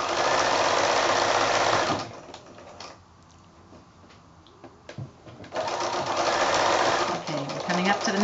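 A sewing machine stitches binding onto a quilted placemat in two loud, rapid, whirring bursts, with a quiet pause of light handling and clicks between them.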